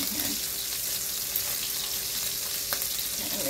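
Bacon frying in a pan sizzles steadily and close, a dense, even hiss that carries on throughout with only a faint clink near the end.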